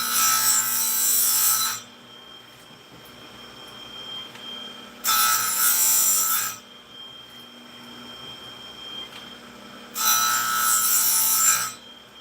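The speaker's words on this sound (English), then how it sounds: "So this Oregon grinder definitely does the job and gets it done pretty quick." An Oregon chainsaw chain grinder sharpens a chain in three loud, close grinding bursts of about two seconds each, with a steady motor hum continuing between them.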